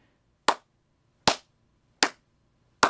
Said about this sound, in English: Let's clap the first four measures.